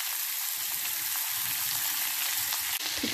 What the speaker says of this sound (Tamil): இப்போ கேரட் வதங்கிட்டுருக்குங்கள